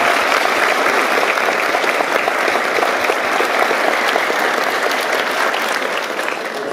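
An audience at a concert applauds the band's pianist with sustained, loud clapping from many hands that holds steady and tapers slightly at the end.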